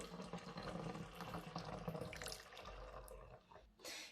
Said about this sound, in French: je vais commencer à mettre un peu d'eau